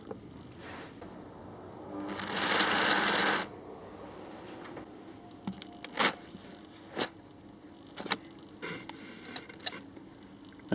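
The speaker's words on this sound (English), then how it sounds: "I will now run it for a very, very short time to even out the chain at the back here" Magnorail model-railway layout chain drive run very briefly to even out the chain; a short burst of whirring motor and chain noise, then sparse mechanical clicks and taps, quiet and close.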